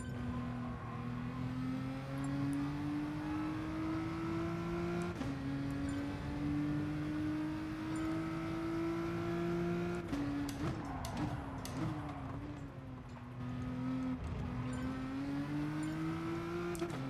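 A Volkswagen Beetle GR3 race car in Gran Turismo Sport: its engine drone climbs steadily in pitch, drops sharply with gear shifts and briefly fluctuates mid-run before climbing again, loud and continuous with no voices.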